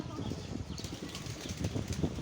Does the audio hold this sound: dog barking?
no